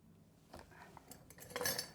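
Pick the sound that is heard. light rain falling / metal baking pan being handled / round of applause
metal baking pan being handled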